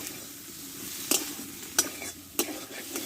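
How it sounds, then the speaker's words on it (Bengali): Potatoes with spices sizzle in a pan under a steady low hiss, with three sharp scraping strokes of a spatula at intervals, close by. "মশলার সঙ্গে আলুটা ভালো করে কষে নিব"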